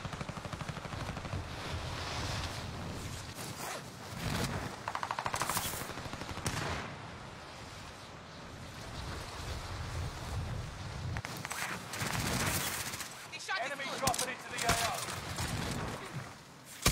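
Gunfire in a multiplayer shooter video game: dense rapid bursts of automatic fire and single shots, loud and nearly continuous, with footsteps among them and excited talk layered over the action.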